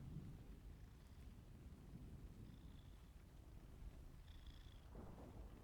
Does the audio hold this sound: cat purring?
yes